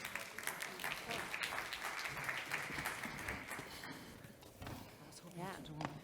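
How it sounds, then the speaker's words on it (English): An audience at an energy tech summit applauds panelists, a steady wash of clapping beneath a speaker's voice that carries on over it, fading slightly toward the end. "A round of applause, please, for the wonderful panelists"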